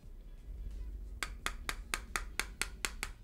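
A hammer taps repeatedly on an Alcatroz wireless RGB gaming mouse, about nine sharp, evenly spaced knocks close up after a quiet start.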